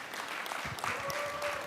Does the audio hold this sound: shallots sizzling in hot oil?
no